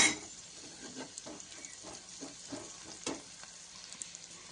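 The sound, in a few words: sautéing spice masala with onion and chili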